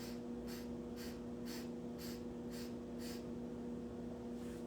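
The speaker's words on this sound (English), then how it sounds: "Again, 7 short inhales." Seven short, rhythmic sniffs drawn in through the nose during a breathwork exercise, evenly spaced and fairly soft over a steady low background hum.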